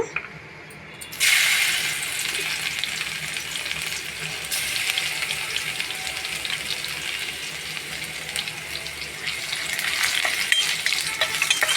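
Garlic cloves, some with skins left on, drop into hot oil and begin frying, a brief quiet start giving way to a loud, continuous close sizzle with scattered crackles.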